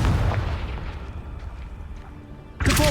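A Confringo fire spell detonates in a Harry Potter video game: a sudden loud, close blast bursts in near the end and ends a stretch of low rumbling background.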